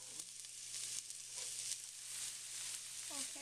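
Breaded eggplant slices frying in about a tablespoon of hot olive oil in a pan give a steady, fairly faint crackling sizzle throughout, with a low hum beneath and a brief voice fragment near the end.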